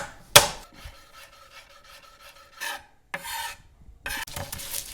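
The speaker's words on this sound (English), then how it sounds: "we're gonna shred a couple carrots" Organic carrots are rubbed against a shredder in close, rasping strokes, a sharp opening scrape followed by bursts of grating separated by short pauses, with no talk.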